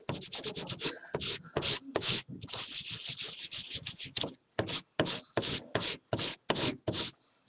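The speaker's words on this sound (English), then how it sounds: "So this is just a sanding block" Rhythmic back-and-forth scraping of a sanding block on a painted canvas, close and fairly loud, in quick bursts with short pauses between strokes.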